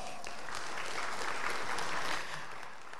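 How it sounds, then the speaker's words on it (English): Audience applause at a tech conference welcome session, a broad wash of clapping from a large hall heard somewhat distant and moderately quiet, swelling slightly and then tapering off at the end. "All right, a round of applause for Microsoft."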